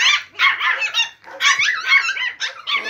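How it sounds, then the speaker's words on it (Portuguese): Several dogs bark and yip excitedly in overlapping, high-pitched bursts, close by and continuous with only brief gaps. "Cadê a cachorrada?"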